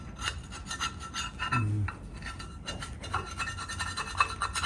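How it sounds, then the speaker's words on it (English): Old asbestos brake pads are scraped by hand, a close, rough rasping repeated in steady strokes with a brief lower thump midway. "let's see if we can scrape some of this out"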